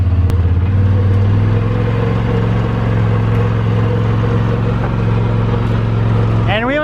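A Polaris RZR side-by-side strains to pull a Ford Focus RS, a loud steady low engine rumble near the microphone with a brief rising whine at the end; a voice can be heard.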